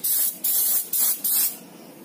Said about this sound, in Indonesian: oke guys semprot tipis-tipis